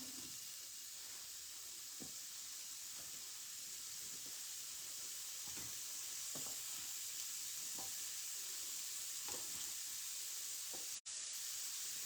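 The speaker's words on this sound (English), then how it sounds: "you just want to cook them long enough to get some grill marks." Vegetables sizzle on a double burner grill pan, a constant steamy frying hiss with occasional soft scrapes and taps of a utensil, heard close and steady throughout.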